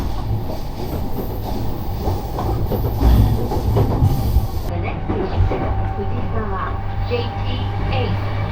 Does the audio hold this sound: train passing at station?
yes